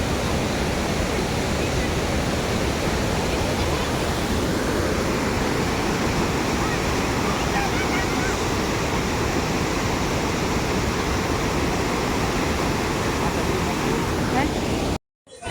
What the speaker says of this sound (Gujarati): જે જગ્યાએ મેં તમને પાણીનું બતાવ્યું એને ગીરા ધોધ કહેવાય.